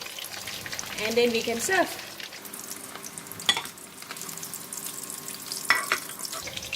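Tilapia deep frying in hot oil in a pan, a steady crackling sizzle running throughout, with a brief voice and a few clinks of the fish being lifted out.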